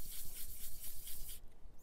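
Sandpaper rubs across a Super Nintendo controller's plastic shell to strip off the screen printing, making rapid back-and-forth rasping strokes, close and steady, that cut off abruptly near the end.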